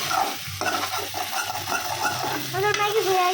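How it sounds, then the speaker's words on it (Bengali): Maggi noodles frying and being stirred in hot oil in a pan, with steady close sizzling and repeated scraping strokes throughout. "আমি এত কষ্ট করে গরমের তেলে ভাজতেছি ম্যাগি"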